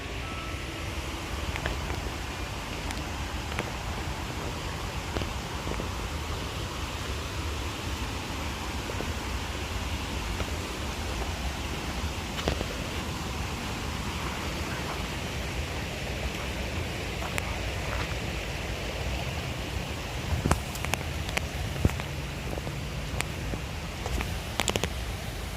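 The waterfall at Olmsted Falls pours in a steady, broad rushing roar that holds unbroken for the whole stretch, with a few faint clicks near the end.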